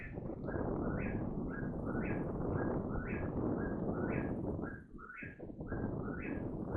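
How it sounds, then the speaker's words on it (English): A bird calls repeatedly in a steady rhythm, a series of rising, slightly hoarse notes over loud, constant rushing background noise. "It's some kind of bird."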